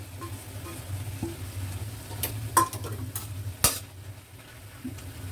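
Hairy melon being stir-fried with dried shrimps and vermicelli in a wok, a steady low sizzle with a few sharp scrapes and clinks of the utensil against the pan, no talking.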